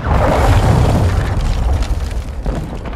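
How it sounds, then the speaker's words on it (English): A cruise missile blast in Call of Duty Modern Warfare II delivers a heavy, loud booming explosion that rumbles strongly at first and then trails off into crackling debris. "Hostiles launched a cruise missile."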